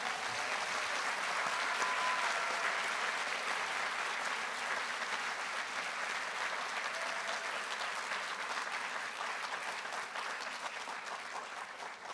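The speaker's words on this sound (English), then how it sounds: "please join me in welcoming Dr. Teller with a thunderous round of applause" Sustained, dense applause from a large audience at a white coat ceremony, welcoming a speaker to the podium; steady and loud throughout, with no talk over it.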